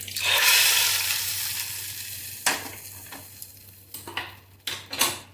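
Mustard seeds crackle and sizzle in hot oil while being tempered for araikeerai kootu, a burst of frying noise up front followed by spoon scrapes and clinks against the pan.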